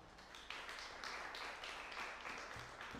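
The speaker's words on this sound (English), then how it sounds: "Give the guy a clap." Live-gig audience applause for a guitarist at Wednesbury Library, steady, dense clapping from a crowd that holds for about three seconds, with no music playing over it.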